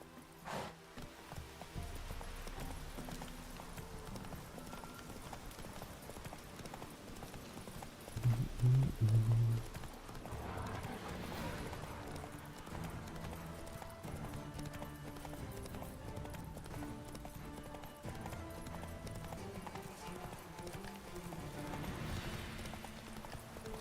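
Roach the horse gallops in The Witcher 3, with a steady, close clip-clop of hooves running through the whole stretch over continuous in-game background sound.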